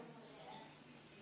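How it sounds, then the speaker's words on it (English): Birds chirp faintly in the distance outdoors in India, giving a few soft, thin high calls over a quiet hum of background noise. "You hear the birds chirping?"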